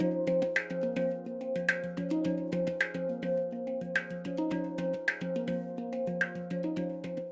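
A hang drum, a handpan from a set of several, played in a steady rhythmic pattern of ringing, overlapping metallic tones with soft tapped accents, close and alone without speech.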